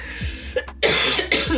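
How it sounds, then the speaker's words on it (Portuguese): A single short, harsh cough bursts out at close range, followed by a brief throaty rasp, coming from someone who is unwell. "Vem uma tosse junto."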